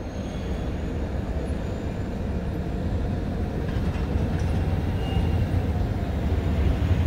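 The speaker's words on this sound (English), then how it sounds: "bring the train back so he can get aboard" A train moves slowly during railroad switching in Wisconsin, giving a steady, even rumble with broadband noise that holds at a constant level and swells slightly near the end, with no one talking.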